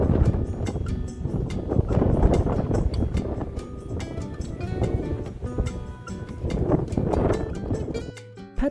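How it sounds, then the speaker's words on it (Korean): Strong Patagonia wind gusting across an open trail area near lodging, a steady roaring rush that buffets the microphone for several seconds, swelling and easing without pause, with no talk over it. "파타고니아의 유명한 바람소리 또 들으셨죠?"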